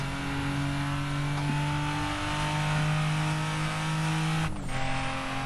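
A Toyota Supra racing car engine in Assetto Corsa, at Mugello, drones at high revs with a steady whine, then briefly drops off as the turbo releases before the engine picks up again.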